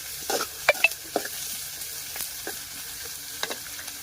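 Onions sizzling in a pot over a wood-fired stove, a soft crackle with a few sharp scrapes and clinks of a stirring spoon, close but fairly quiet, no talking.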